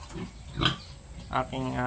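A native sow grunts in short bursts with background noise, a few low snorts near the microphone, fairly quiet.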